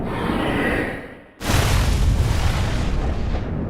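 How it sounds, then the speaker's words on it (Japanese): A soft-vinyl Baragon kaiju figure fires its red heat ray: a low rumble swells and cuts off, then a loud roaring whoosh bursts out and holds as a dense, sustained blast. "赤い熱線発射をソフビのバラゴンで再現してみましたのでご覧ください"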